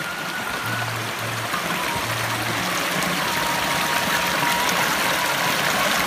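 A small, clear stream flows through a village in rural southern Cianjur, giving a steady, even wash of running water throughout with no voices.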